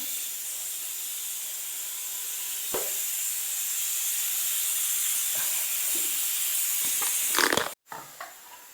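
A pressure cooker holding beef lets out a loud, continuous high steam hiss, with a few faint clicks underneath, before the hiss cuts off sharply near the end.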